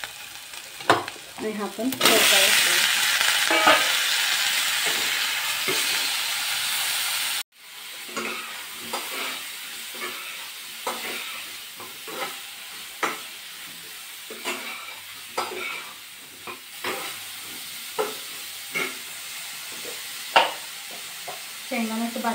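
Onions frying in a pan with chili powder added, sizzling steadily while a spoon scrapes and stirs in repeated strokes; a voice speaks briefly near the start.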